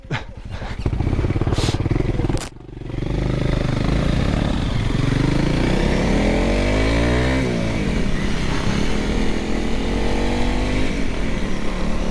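A Voge 300 Rally or Honda CRF 300 Rally motorcycle engine drones loudly and steadily while riding, with a brief drop and rising revs as the rider shifts through gears, close to the microphone.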